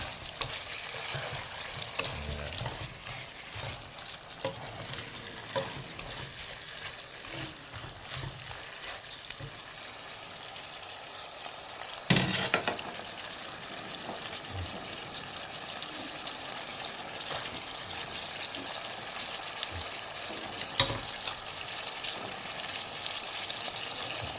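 Chicken stir-fried with fingerroot and torn kaffir lime leaves sizzles steadily in a pan, with scattered stirring scrapes and one louder clatter near the middle, no voices.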